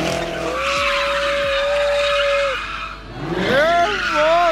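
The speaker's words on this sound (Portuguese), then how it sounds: "Nossa, o carro desliza." Chevrolet Camaro drifting around a roundabout on a wet track, its tires letting out a long sustained screech, then a burst of wavering, rising squeals as the car swings around again, with engine roar beneath.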